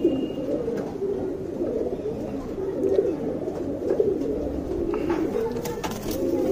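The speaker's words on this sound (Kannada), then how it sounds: "ಇದು ಲೆಫ್ಟ್ ಸೈಡ್ ಇರೋದು ಚೀನಿ ಹೆಣ್ಣು, ರೈಟ್ ಸೈಡ್ ಇರೋದು ಚೀನಿ ಗಂಡು" Pair of Chini pigeons, a female and a male, cooing steadily in low, rolling murmurs that run continuously and close by, with a few faint higher chirps and clicks in the background.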